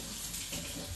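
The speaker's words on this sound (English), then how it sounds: "I'm just going to go to the sink and get the 4 teaspoons of water" Water running from a sink tap as a small amount is collected for a homemade baking soda scrub, a steady close splashing rush that fills the whole moment with no talking.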